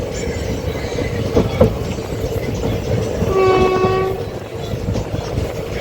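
Passenger train pulling away from Kannamangalam station, a loud steady rumble with rhythmic clickety-clack of wheels over rails and a sustained horn blast midway, heard from on board.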